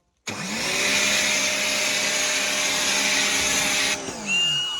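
A Mächtz MPW-1758 mini pressure washer fitted with a foam nozzle starts up and runs with a loud, steady motorized whine and hiss, then cuts off briefly and restarts near the end.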